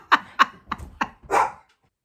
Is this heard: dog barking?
yes